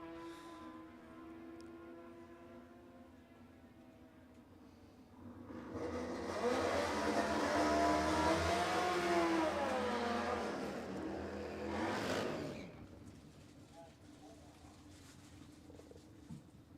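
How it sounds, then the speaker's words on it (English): Nitro drag racing motorcycles launch and accelerate down the strip at Warwick Dragway in Australia during qualifying, a distant engine roar swelling to a loud broadband blast for several seconds, then fading away beneath a steady background hum. "Eric Redmond lifting the front wheel in second gear."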